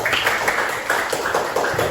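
A classroom group claps in a quick, regular rhythm of close, sharp hand claps, repeating steadily for a couple of seconds with no voices over it.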